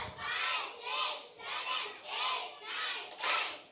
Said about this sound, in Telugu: పిల్లలు ఒకసారి సండే స్కూల్ క్లాప్స్ కొట్టండి